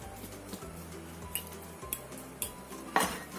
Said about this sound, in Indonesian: Ini kita pecek-pecek kentangnya itu sampai halus.